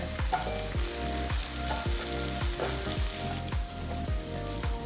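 Onions and green chillies sizzle steadily in a hot pan with a crackling, hissing texture, punctuated by regular rhythmic scraping or stirring thumps.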